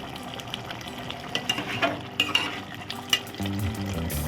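A spoon scrapes and stirs through sizzling chicken curry with mint and coriander powder in a pan, with irregular clinks and steady frying underneath, close by.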